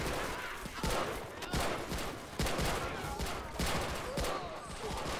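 Browning Automatic Rifle fire in a Pacific beach assault video game rattles in dense, continuous bursts with overlapping volleys and distant shots, loud and busy throughout, without clear speech.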